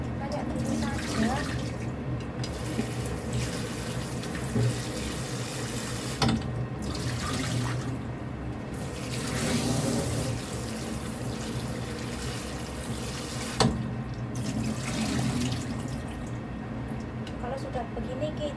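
Kailan and other vegetables are washed under a running tap, a steady rush of water with splashes and handling noises, close by, while a person talks over it intermittently.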